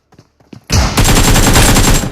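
Gunfire in the mobile game BGMI: a few sharp isolated shots, then a loud, rapid burst of automatic fire rattling on continuously and close, with no talk over it.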